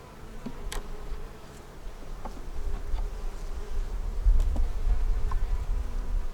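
Honeybees buzz steadily around a nuc hive, with the hum of the colony swelling slightly over time and individual bees passing close by.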